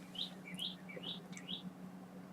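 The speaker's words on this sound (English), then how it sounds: "birds outside. Those are pretty sounding." Birds chirping outdoors, giving about six short, bright chirps in a quick uneven series over a steady low background hum.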